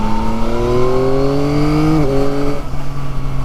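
A 2023 Yamaha MT-09 motorcycle engine rises steadily in pitch, then briefly blips and drops as the rider downshifts to third, the close, loud engine drone continuing underneath.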